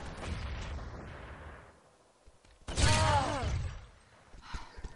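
Muffled game audio leads into a sudden grenade blast in an online shooter match, a loud boom with a ringing tail that lingers for over a second before fading into background game noise.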